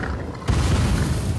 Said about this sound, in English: So that exploded, caused 3 attacks from those explosions